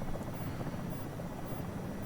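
A Comanche helicopter flying in a video game gives off a steady, dense rotor and engine rumble with a broad whooshing roar, loud and constant throughout with no voices.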